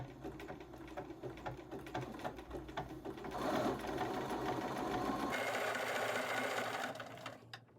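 Sewing machine stitching a fusible web appliqué, a continuous close whir with rapid needle ticking that shifts pace partway through and runs for several seconds before easing off.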